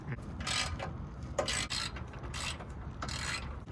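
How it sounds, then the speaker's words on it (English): A hand ratchet with a 12mm socket works loose the skid plate bolts on a 2021 Toyota Tacoma, giving several short bursts of quick clicking separated by brief pauses, fairly close and unaccompanied by talk. "To drain it, you gotta remove the skid plate here, which you use a 12mm socket to get those removed"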